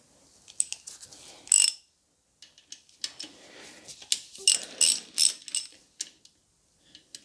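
A breaker bar ratchets as it undoes the big end bearing bolts on a BMW 116i, with bursts of rapid clicking and a few sharp metallic clacks between short quiet gaps, close up.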